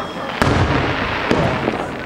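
Fireworks bursting at a 2009 town fireworks show in Valley Stream, two sharp booms with crackling between them, heard at a moderate distance with crowd noise underneath.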